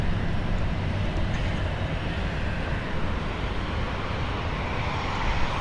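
A Southwest airliner's engines roar steadily during a takeoff roll on runway 31 left at Dallas Love Field, a loud continuous rumble and hiss from nearby with no voices over it.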